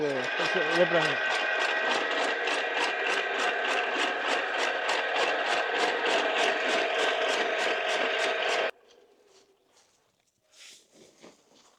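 A straw-cutting machine for preparing mushroom beds runs with a rapid, regular mechanical chatter for about nine seconds, then cuts out, leaving faint scattered noises.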